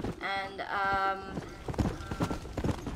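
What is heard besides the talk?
apocalypse horse galloping in Red Dead Redemption Undead Nightmare video game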